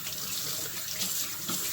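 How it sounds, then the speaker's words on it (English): Kitchen sink tap pours steadily while hands are rinsed of seasoning, a close, loud continuous hiss of running water with small splashy variations. "rinse my hands again"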